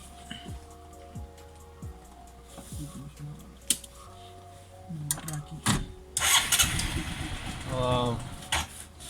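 A homemade Lamborghini Huracan replica being self-started: mechanical clicks and a cranking starter that catch into a running engine, close by, with people talking before and around it.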